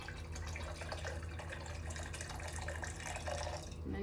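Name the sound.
water running into a container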